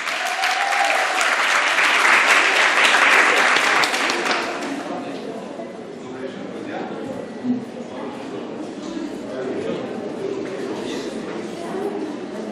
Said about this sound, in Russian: Встречайте громкими аплодисментами, друзья!